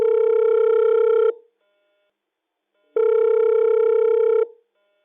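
A telephone call to a radio programme rings out as two long, even buzzing tones, each about a second and a half, separated by a clean silence.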